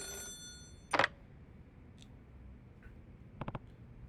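Telephone in the video game Yakuza 0 gives a short electronic ring, a sharp burst followed later by a quick double ring, set against a quiet ambient background.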